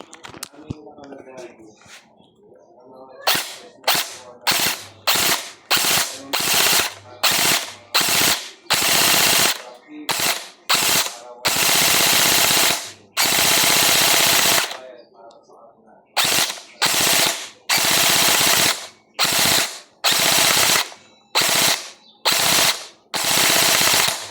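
PDX gel blaster firing at a thick piece of wood, rapid sharp full-auto bursts of clattering shots in repeated strings with short pauses, loud and close, a voice speaking briefly at the start.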